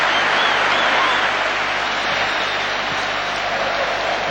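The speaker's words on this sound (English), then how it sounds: "Even the Newcastle fans are applauding that one." A football crowd at a Manchester United match against Newcastle, 1999-2000 season, applauds Andy Cole's hat-trick goal: dense, steady clapping and cheering that fills the stadium without a break.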